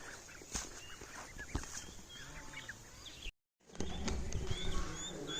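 A turkey bird at a bird market gobbles in short bursts among other fowl and farmyard chatter, fairly faint, with a brief silent gap midway and steady outdoor noise throughout.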